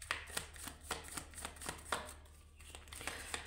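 Tarot cards are shuffled by hand in quick, rhythmic riffling bursts, close and fairly quiet, with a short pause near the end.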